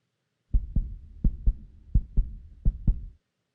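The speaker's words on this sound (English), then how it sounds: "Heart pounding, anxiety swirling." A heartbeat sound effect of four close, loud double thumps in a steady lub-dub rhythm, heard alone against silence.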